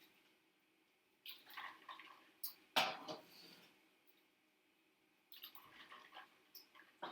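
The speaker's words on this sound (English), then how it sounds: "now I'm just going to take them one by one and carefully put them in the ice water" Tomatoes for salsa are set one by one into ice water, giving a few soft splashes and drips with pauses between, close and fairly quiet with no talk.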